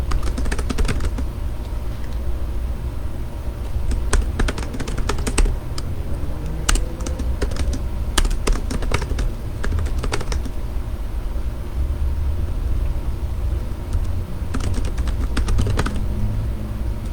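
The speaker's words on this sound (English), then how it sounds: "It's a little bit hard when I'm typing on the lap and then reading" Rapid bursts of typing on a laptop keyboard resting on a lap, crisp clustered keystrokes separated by quiet pauses over a low steady background hum.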